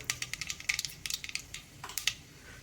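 Mustard seeds popping in hot oil for a mango rice tempering, a rapid irregular run of sharp close crackles and pops over a low background hum, with no talking.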